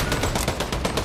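Musket fire in Fortnite comes as a dense, rapid stream of loud gunshot bursts, evenly repeated over about a second with no pause; no voices.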